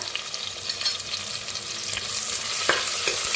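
Onion and curry leaves sizzle in hot oil with cumin, mustard seeds and asafoetida for a tempering while making masale bhat, a steady close frying hiss with stirring scrapes and a sharper crackle near the end.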